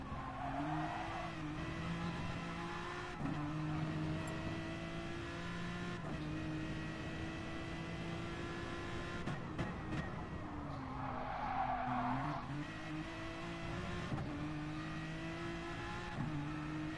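Onboard engine of an Aston Martin race car in a sim racing session at Bathurst, a steady droning note that rises and drops through gear changes, with occasional tyre squeal, continuous and moderately loud.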